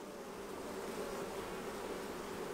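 Honeybees buzz steadily at an open hive while small hives are being made for virgin queens, a dense continuous drone from many insects close by with no speech.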